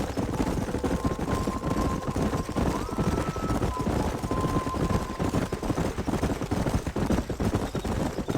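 Horses in the Red Dead Redemption video game, hooves clip-clopping steadily and close over a dense, constant game soundscape, with a brief whinny-like tone and a low droning hum underneath throughout.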